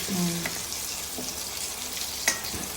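Pieces of vanjaram fish frying in hot oil give a soft, steady sizzle, with a brief voice at the start and a sharp clink just past the two-second mark.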